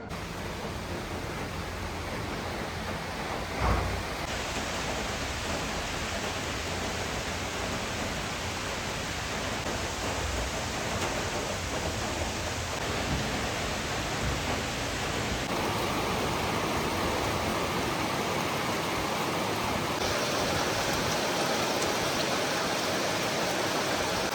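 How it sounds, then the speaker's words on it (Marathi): Dense, continuous rush of heavy rain pouring down, loud and unbroken throughout, with no voices. "सकाळपासून एवढा पाऊस पडतोय"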